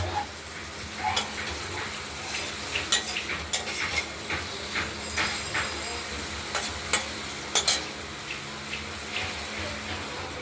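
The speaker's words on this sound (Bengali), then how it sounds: "এবার আমরা জল দিয়ে দেব" Water poured into a pan of sizzling, oil-separated spice paste for katla fish curry, a steady frying hiss with stirring scrapes and splashes running throughout at close range.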